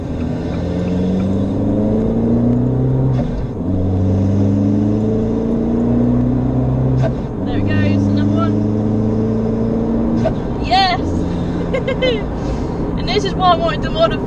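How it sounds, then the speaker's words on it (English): An Abarth car engine fitted with an induction kit and dump valve revs repeatedly in loud, rising pulls with gear changes, heard from inside while driving a lap, with a person talking over it and fluttering valve sounds near the end. "it also adds this incredible noise, and you must get the induction kit and the dump valve for a good noise combo"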